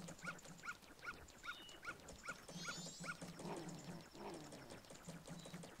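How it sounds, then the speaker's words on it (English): A dog in Zelda: Majora's Mask barks in a steady repeating series of short, clear yaps, with a few chimes and effects mixed in and no voices. "Oh, it's that dog again. Is it the same dog?"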